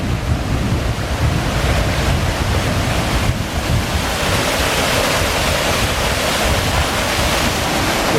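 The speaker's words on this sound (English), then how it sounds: "And then just 5 minutes later is the second waterfall." Rushing water from a second waterfall at a desert oasis, a steady, loud broadband roar running unbroken throughout with wind buffeting the microphone.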